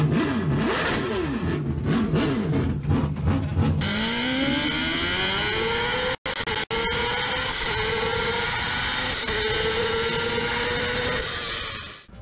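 A Mazda car with a rotary engine revving hard, a loud buzzing drone that climbs steeply in pitch and then holds high with brief drops as the throttle lifts, close and alone.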